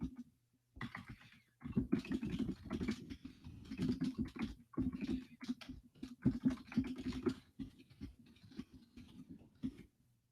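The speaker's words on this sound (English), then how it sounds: "I'm typing in a little question about what grade you or your student are in" Quick bursts of typing on a computer keyboard, clicking keys in uneven runs with short pauses, close and fairly quiet in an indoor room.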